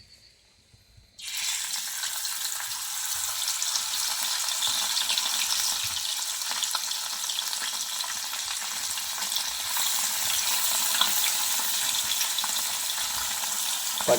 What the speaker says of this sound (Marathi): चुलीवरती मस्त आपण हे नदीतले गोड्या पाण्यातले ॲक्च्युली पिसलांडी मासे फ्राय करतो आहे